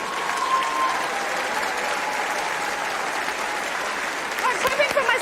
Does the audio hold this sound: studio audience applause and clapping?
yes